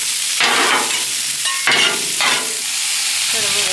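Food frying on a Blackstone griddle, a loud close sizzle that surges in bursts as ingredients are moved and scraped, with short gaps of quieter crackle between.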